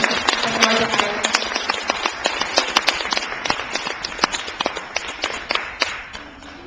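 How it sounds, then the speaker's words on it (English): An audience at a live music concert in Bethlehem claps for a performer, steady scattered applause of moderate loudness from a fairly small crowd, tapering off near the end. "give him a big round of applause"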